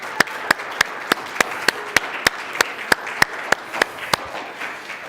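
Congregation applauding at a Unity of Fox Valley church service, sparse and evenly spaced sharp claps standing out over a soft room background, moderately loud with no talking.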